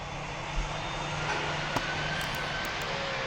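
Boeing 737 jet engine in the PTFS flight game, a steady, even broadband roar with a low droning hum underneath, holding constant throughout with only a faint click or two and no voices.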